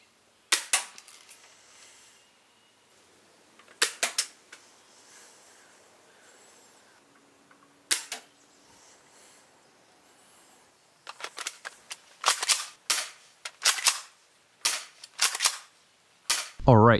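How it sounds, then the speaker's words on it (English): A spring-powered airsoft shotgun fires in sharp, close, crisp snaps: a few separate shots early on, then a quicker run of repeated shots near the end, with quiet gaps between. "So now let's actually go ahead and see how this thing shoots."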